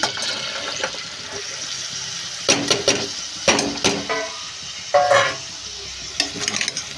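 Onions tipped into hot oil in a pan for a Telugu drumstick, small prawn and egg curry, sizzling steadily with several louder bursts of crackle and stirring clatter close by, no talking.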